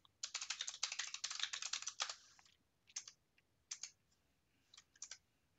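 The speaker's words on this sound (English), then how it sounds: "I'm going to do a lot of typing." Rapid typing on a computer keyboard: a dense two-second burst of crisp key clicks, then a few short scattered flurries of taps separated by pauses, close and fairly quiet.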